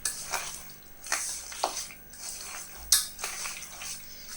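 Marinated chicken curry ingredients mixed by hand in a bowl, giving a few wet squelches and light clinks at uneven intervals, close and fairly quiet, with no talking over them.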